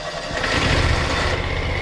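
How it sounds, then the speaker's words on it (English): A lawn mower for cutting pasture starts up, a rough engine catch building quickly into a steady, fairly loud running rumble that continues to the end. "All right, start your engine."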